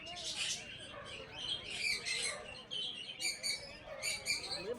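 Caged birds at a Sunday market beside the Ganges near Dhobighat, a dense cluster of bright chirps and tweets, close and lively, with murmuring voices in the crowd underneath.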